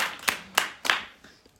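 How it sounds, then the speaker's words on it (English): A few separate hand claps, three sharp claps spaced about a third of a second apart with fainter taps trailing off, from a small group applauding Joe at a mindset talk. "Give Joe a round of applause, guys."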